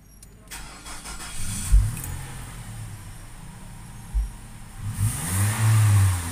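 A Nissan car engine idles and is revved several times, rising into throaty bursts and easing back, close and fairly loud with no talk.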